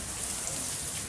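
Rain falling in Haldwani: a steady, dense hiss of drops with no breaks, fairly loud and close throughout the brief stretch.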